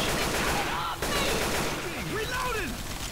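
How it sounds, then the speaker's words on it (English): Rapid bursts of gunfire in the zombie shooter game Left 4 Dead 2 blend with other game noise while voices talk over the action. "I'm just freaking guns ablazing right now"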